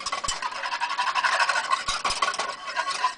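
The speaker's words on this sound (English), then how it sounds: "I'm going to make sure you work kind of quickly to get that whisked in there" Eggs being whisked quickly into milk and maple syrup in a bowl: a continuous close scraping and swishing with a fast, steady rhythm, no voices.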